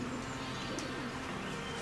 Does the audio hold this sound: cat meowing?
no